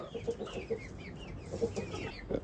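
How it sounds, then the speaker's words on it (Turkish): Chickens clucking close by, several soft repeated clucks and chirps in a steady murmur with no voices. "bizim yumurta civcivlerimiz"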